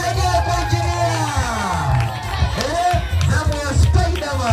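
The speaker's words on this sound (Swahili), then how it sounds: "Makofi na vigelegele kwa engineer." A crowd at a nursery school graduation cheers, whoops and ululates for a child performer, a close, lively babble of voices with a speaking voice on top.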